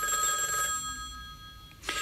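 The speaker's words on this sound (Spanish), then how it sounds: "no te querés levantar a atender el teléfono? Pero no tenés más remedio porque si no va a seguir sonando insistentemente." A telephone bell rings loudly in a steady electronic trill for the first part, falls quiet, then briefly starts ringing again near the end, with no talk over it.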